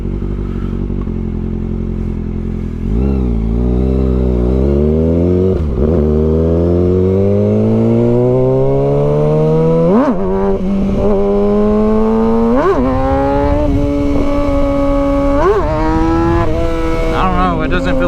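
A 2023 Kawasaki ZX-6R sport bike, traction control switched off, accelerating hard: the engine note climbs steeply again and again through several quick upshifts, loud and close throughout.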